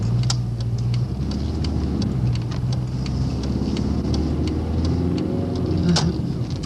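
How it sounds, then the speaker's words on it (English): Car rolling past on a road, a steady low engine and tire rumble close by, with faint repeated ticking clicks over the traffic noise. "There's a bus and there's a car, and there's another car"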